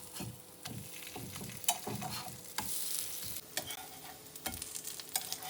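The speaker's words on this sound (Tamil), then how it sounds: "இப்போ இதை மீடியம் ஹீட்லேயே வச்சு 2 சைடும் நல்லா திருப்பி விட்டு நல்லா வேக வச்சுக்கலாம்." Vegetable pancake patties fry in oil in a pan over medium heat, with a soft sizzle beneath repeated close scraping and tapping of a spatula as they are turned.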